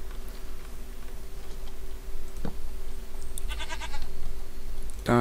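A single short, wavering goat bleat from Minecraft rises late in the clip over a low game hum, followed by a sharp click at the very end.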